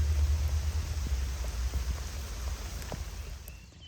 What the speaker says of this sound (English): it's raining. It's actually raining pretty hard.